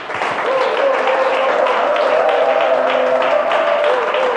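A church congregation applauds and cheers for Jesus during a French-language service led by Bishop Papy Nkumu, steady loud clapping from a crowd with voices rising over it, filling the room throughout.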